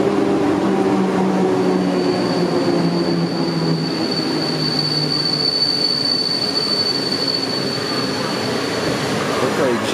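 A train rolls into a station in Poznań, a steady loud rumble of wheels and carriages with a sustained high metallic squeal running through most of the stretch and faint voices underneath.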